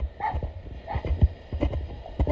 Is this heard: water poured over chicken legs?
no